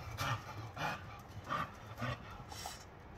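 An American Bully dog pants close by in a series of rhythmic, breathy bursts, about five strong exhalations evenly spaced across a few seconds with faint background noise between them.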